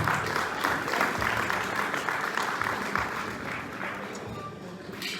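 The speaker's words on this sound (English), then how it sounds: "Please give them a round of applause." Sustained applause from a fundraiser audience fills the space, a dense, even wash of many hands clapping at once, strong at first and easing slightly toward the end.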